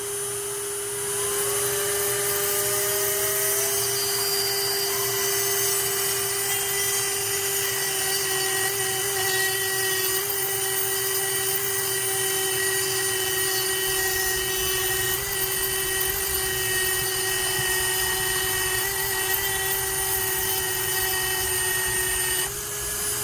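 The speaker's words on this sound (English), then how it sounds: "all I do is I turn the Dremel on, I set it where I can hold it" A high-pitched Dremel rotary tool whines steadily throughout, joined by a drill's grinding buzz, while fitting a Robinson Racing gear to a Traxxas T-Maxx 3.3 RC truck; loud and continuous with no talking.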